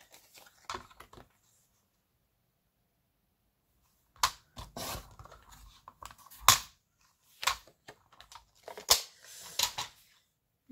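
Paper being cut for a handmade recipe album, a few brief crisp snips early on, then a run of sharp cutting strokes and rustles at close range, with no talk.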